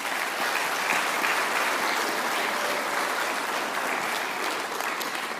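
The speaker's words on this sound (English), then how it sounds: "Let's give them a round of applause." Steady, full applause from the audience at the Northern Territory Australian of the Year Awards ceremony, a dense even wash of clapping that continues without pause throughout.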